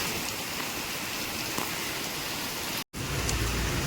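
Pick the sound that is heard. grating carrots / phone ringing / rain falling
rain falling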